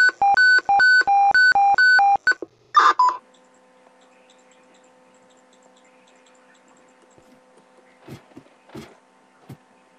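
Rapid series of telephone keypad dialing tones in the video game Minecraft, about a dozen short evenly spaced beeps followed by a louder burst, then near silence with faint hum and a few soft clicks.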